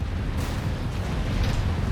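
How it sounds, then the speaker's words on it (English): Fireworks bursting in a video game after a warship is destroyed: a steady, loud rumbling roar of overlapping explosions, with brighter pops standing out near the start and the middle. "fireworks in the air"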